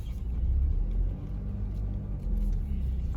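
Car driving along and turning in, a low steady engine and road rumble heard from inside, fairly loud and continuous with slight swells, with little or no talk.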